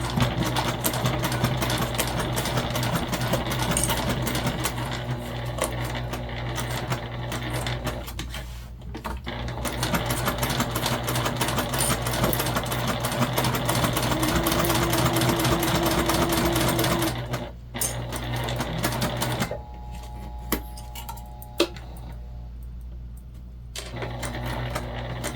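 A sewing machine runs slowly over the zippers of a fabric pouch, a steady close mechanical chatter with brief breaks near the middle and later on.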